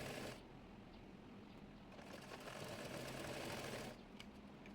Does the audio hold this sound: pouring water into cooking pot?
no